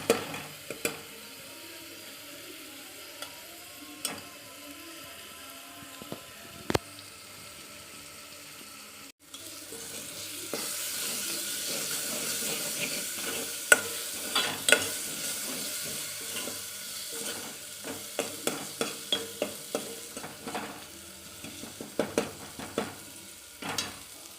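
Green chillies fry in a pan, a faint sizzle that swells from about ten seconds into a steady hiss, dotted with sharp scrapes and taps of a stirring spoon.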